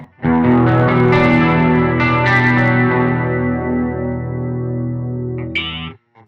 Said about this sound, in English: Silky chorus.